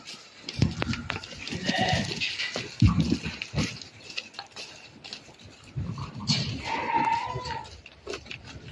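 Young male Boxaz-breed sheep, 9 to 11 months old, bleat in short bursts among a flock, with scattered animal calls and some indistinct voices and handling noise nearby.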